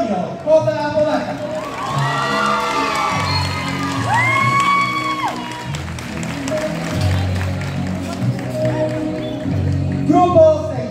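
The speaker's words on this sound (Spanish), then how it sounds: "También solicitamos un fuerte aplauso para el padrino de grupo, el profesor Jorge Antonio J. Bodaca." Audience applause and cheering at a graduation ceremony, a steady crowd roar with whoops and shouts rising over it, loud and close, with voices calling out throughout.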